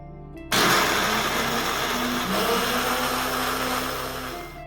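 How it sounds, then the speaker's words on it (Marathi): A mixer grinder grinds soaked chana dal with green chillies, starting abruptly after a brief lower hum and running as a loud, steady, close-up whir to the end. "ही भिजवलेली हरभऱ्याची डाळ जी आहे ती आपण मिक्सरमध्ये वाटून घेणार आहोत"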